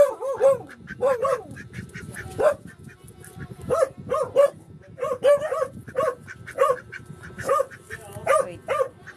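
A pet duck quacking repeatedly and loudly up close, harsh nasal calls in irregular bursts of two or three throughout.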